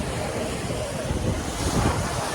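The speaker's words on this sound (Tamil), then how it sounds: "எப்படி அலையடிக்குதுன்னு பாருங்கள்." Rough ocean surf pounds the shore at Tiruchendur, a steady loud roar of crashing waves mixed with strong wind buffeting the microphone, with no voices.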